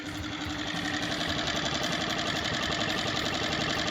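A small Yamaha 2.5 four-stroke single-cylinder outboard motor, running hot from a cooling fault, chugs steadily nearby with an even, rapid putter and no voices over it.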